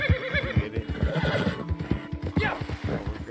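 A horse whinnies in the video game Red Dead Redemption 2, a drawn-out neigh over a steady clip-clop of hooves that runs throughout, loud and close.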